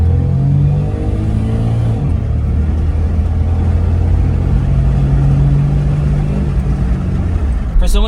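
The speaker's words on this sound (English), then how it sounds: "Let me show you guys a quick acceleration test." Daihatsu Terios under full-throttle acceleration from inside the cabin, a steady engine drone with a low rumble rising slightly in pitch, heard close and continuous.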